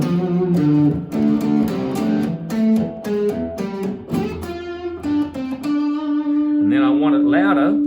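An electric guitar runs through a distortion pedal placed before a volume pedal, playing loud, sustained, gritty notes and chords with a held tone near the end.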